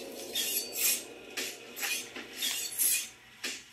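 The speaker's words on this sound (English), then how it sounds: "She's already sharpening knives on this last song." Rhythmic scraping strokes of a knife being sharpened, used as a sound effect in a song, about seven rasping swipes at a steady pace, fairly quiet and close with no voices.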